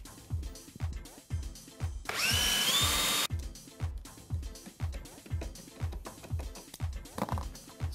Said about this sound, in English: Now I'm using a handheld screwdriver here so I don't over tighten it.